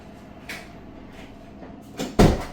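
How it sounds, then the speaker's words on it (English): A laundry room door swings shut with a soft bump at first, then a firm, close thud at the end, heard with no one talking. "I gotta shut this door."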